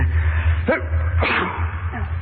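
A single sharp human sneeze in a radio drama scene, close and loud over a low background hum, followed by a faint second breathy burst.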